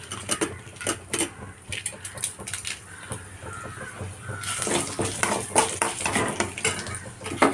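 Dried red chilies drop into a pan of fried urad dal: scattered clinks and scraping of utensils, then a sudden steady hiss of sizzling oil that continues alongside light stirring clatter.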